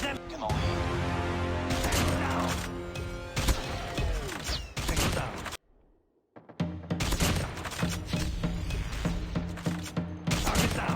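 Thermite molotov firecrackers bursting in COD Mobile, a loud flurry of rapid crackling bursts, a brief silent gap, then more dense popping and crackling.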